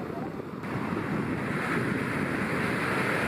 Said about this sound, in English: On Nippers Beach, we spent a little time just listening to the waves